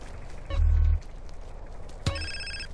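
A telephone rings in GTA San Andreas: two short electronic rings with a gap between them, clear and prominent against quiet game background, with no talk.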